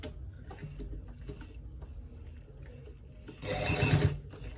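Sewing machine stitching the inner pocket of a V-neck garment, a soft continuous mechanical whir close by that swells into a louder, brighter run near the end, with no voices.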